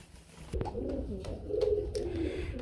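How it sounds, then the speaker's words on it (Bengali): Soft, low coos from a pair of hammer pigeons, a few throaty calls close by, with a faint hum in the background. "এখানে আমরা দেখতে পাচ্ছি একজোড়া হ্যামার কবুতর"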